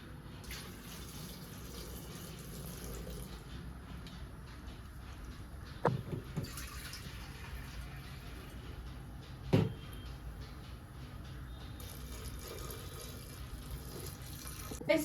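Water poured into a pan while cooking samosa chaat, a faint steady trickle with a few knocks and clatters from the kitchen.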